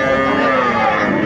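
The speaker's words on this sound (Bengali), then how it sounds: "গাভী বাছুর আমরা দেখছিলাম এখানে" A cow at a cattle market gives one loud, sustained, close moo that fills the whole moment.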